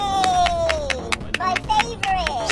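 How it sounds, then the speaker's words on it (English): A child claps repeatedly at home, a run of sharp, evenly spaced claps heard under a synthetic talking voice. "Son, can you please stop clapping?"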